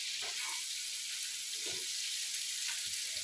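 Fish fries in a pan with a steady, close hiss of hot oil, broken by a few soft pops and crackles throughout.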